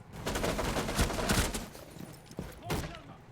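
Bursts of gunfire from a Rainbow Six Siege match, several sharp volleys clustered in the first second and a half, then two more spaced shots, loud and close against a busy game soundscape with faint speech underneath.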